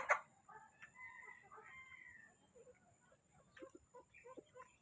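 Soft, scattered chicken clucks and chirpy calls, fairly faint, with a sharper call at the start and quieter pecking-like sounds after.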